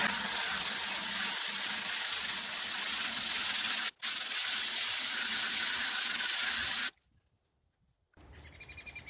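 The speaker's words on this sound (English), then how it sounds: "all the garlic is washed off" Freshly harvested garlic is washed under water, a steady loud hiss of running spray with a brief break, then stopping into near silence before faint birdsong returns.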